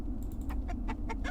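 Chicken clucking in the video game Arx Fatalis, a quick series of short, rhythmic clucks at moderate loudness over a steady low background hum.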